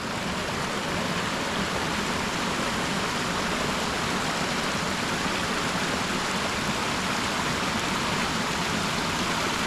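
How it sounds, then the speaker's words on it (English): A backyard pond waterfall, fed by a freshly primed pump, pours in a steady, loud, unbroken rush of splashing water that holds constant throughout with no voices. "the pump is primed and the waterfall"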